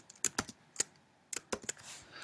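Irregular bursts of keystrokes on a computer keyboard while typing a Flash button action: quick clusters of close, crisp clicks separated by short pauses, with no voices.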